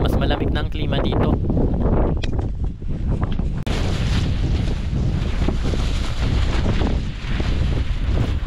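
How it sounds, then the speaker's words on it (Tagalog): Strong, steady wind on a Mount Pulag mountain summit in the Philippines roars and buffets loudly against the microphone, with brief gusts and a sudden louder blast partway through. "Dito ay mas maririnig nyo ang lakas ng hampas ng hangin"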